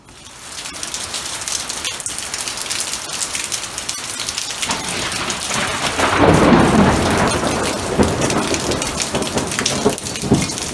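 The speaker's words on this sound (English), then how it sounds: "thunderstorm is approaching" A thunderstorm moves in with rain falling hard and steadily, building in volume; a deep rolling thunderclap rumbles through the middle, loud and close, with no voices.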